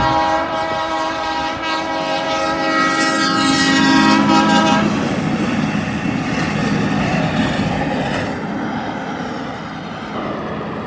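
A maintenance-of-way train rolls past with a sustained multi-tone horn blast, then rumbling wheels and rail clatter that stay loud and close throughout.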